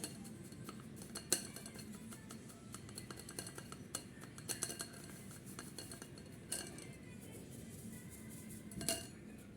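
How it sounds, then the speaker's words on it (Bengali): Rice flour sifted through a sieve for a homemade mango pitha, giving soft steady rustling with scattered light metallic taps and clinks of the sieve throughout, close and moderately quiet, with no talking. "ভালো করে আমি একটু চেলে নিচ্ছি কারণ অনেক সময় চালের গুঁড়োতে একটু ধান থাকে"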